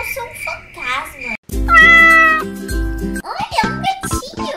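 Cat meowing in Roblox Brookhaven RP: several loud, near, tonal meows, one long drawn-out cry in the middle, with a voice talking around them.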